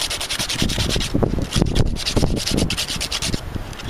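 Sandpaper rubbed by hand against a small workpiece for a power supply holder, a steady rasping scrub in quick back-and-forth strokes, close and fairly loud throughout with no talking.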